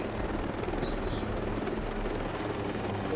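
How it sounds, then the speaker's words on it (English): Helicopter in a video game, a continuous low rotor drone with faint higher whines, steady and fairly distant, with no voices. "Kill that freaking helicopter. The helicopter just explodes."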